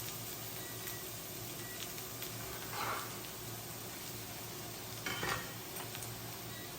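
Chopped onions sizzle softly in olive oil in a pan, a steady low hiss with two brief louder stirs, fairly faint and without voices.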